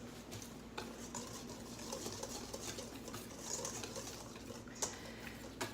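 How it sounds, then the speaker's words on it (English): Gluten-free flour blend containing garbanzo flour being whisked together in a bowl, giving a steady, soft scraping and stirring texture close by, with small clinks and no talking. "So I'm going to whisk that together."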